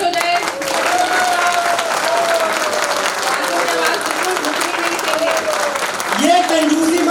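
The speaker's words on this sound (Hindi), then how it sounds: "जोरदार तालियों से स्वागत हो जाए।" An audience at a Varanasi event breaks into continuous applause while a voice carries on over the clapping throughout.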